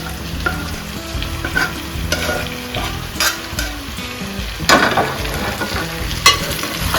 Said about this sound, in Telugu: ఇప్పుడు ఇందులో చేపలు కూడా వేస్తున్నానండి వేయించి పెట్టుకున్న చేపలు కూడా వేసేస్తున్నాను ఇందులో